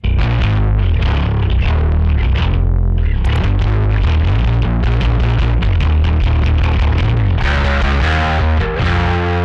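A bass guitar riff through a Decapitator saturation plugin plays loud and continuous, distorted, thick and gritty with a compressed, buzzing edge.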